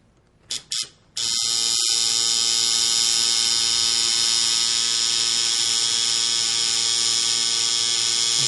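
A tattoo machine lining skin for black work hums with a loud, steady, close buzz after a couple of brief starts, then keeps running continuously without any talk.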